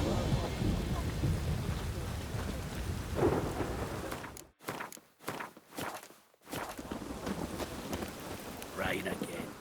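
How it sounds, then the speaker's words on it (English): Steady rain with rumbling thunder in the fantasy video game The Witcher 3: Wild Hunt, with footsteps audible through the downpour and a brief cut to near silence midway before the storm returns. "Rain again."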